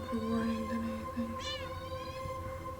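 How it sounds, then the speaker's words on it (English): A cat gives a short, faint meow against a steady background of sustained musical tones and hum. "That was a cat."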